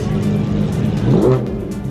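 A Ferrari F50 engine revs hard nearby, a loud, rising snarl that swells briefly before easing back.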